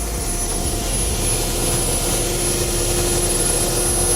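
A Chrysler Turbine car's gas turbine engine runs with a steady, loud, close whoosh and high whine, holding an even roar throughout without any talk.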